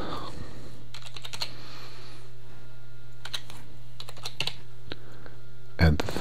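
Computer keyboard typing, with scattered bursts of crisp keystrokes over a steady electrical hum, a few clusters of quick taps between pauses and a louder clatter at the end.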